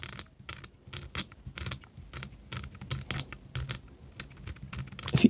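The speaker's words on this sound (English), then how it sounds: "I'm just going to start scraping." Wire being scraped to bare it for winding an end-fed half-wave antenna autotransformer, producing quick repeated short scratchy strokes in an irregular rhythm, close but quiet, with no talk.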